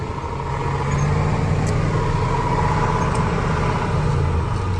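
A truck hauling a load of wheat drives along the road, its engine giving a loud, steady low drone with constant road rumble throughout.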